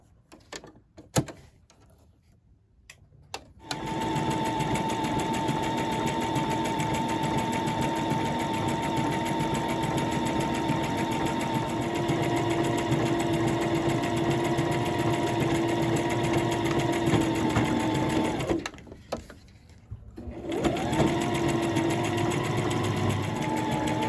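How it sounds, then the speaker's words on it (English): A sewing machine runs a stretch stitch along the seam of a pair of joggers, a steady mechanical whir that holds for about fifteen seconds, pauses briefly, then starts up again, with some handling clatter at the very start. "So I'm gonna stitch it once using my stretch stitch"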